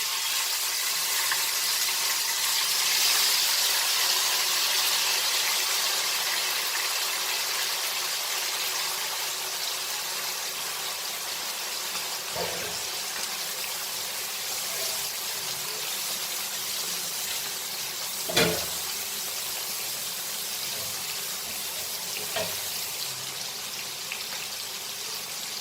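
Steady hiss and sizzle of small mackerel frying in hot mustard oil, continuous and fairly loud, with a couple of brief clinks or pops partway through.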